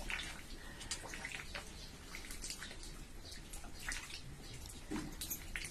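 Water spatters onto a jowar roti on a hot griddle, a steady close hiss with scattered crackles and splashes, no talking.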